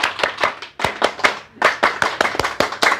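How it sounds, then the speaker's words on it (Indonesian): An audience claps in the rhythmic scout-style pattern (tepuk pramuka), sharp hand claps in grouped bursts with brief pauses, loud and close for about three seconds, with no talk over it. "Tepuk pramuka."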